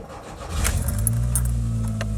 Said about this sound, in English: Car starts fine.